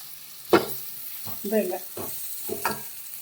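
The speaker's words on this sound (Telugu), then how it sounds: "ఇవన్నీ కలుపుకొని ఎర్రగా వేయించుకుందాం వంకాయల్ని ఇలా ఉడకాలి" Eggplant pieces fry with tamarind in a pan for vankaya pachadi, with a few separate scrapes and stirs of a spoon over a quiet, low sizzle, spaced about a second apart.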